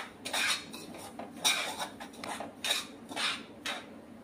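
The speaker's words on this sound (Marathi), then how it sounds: "तुम्ही इथेच उभं राहून 2 मिनिटं असं परतून घ्या" A spatula scrapes and clinks against a pan while semolina is stirred and roasted, in a series of close, rhythmic metal strokes with no talking.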